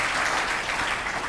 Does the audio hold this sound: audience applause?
yes